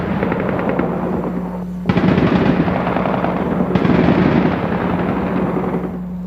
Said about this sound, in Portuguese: os disparos das baterias antiaéreas iluminaram o céu durante a noite desta terça-feira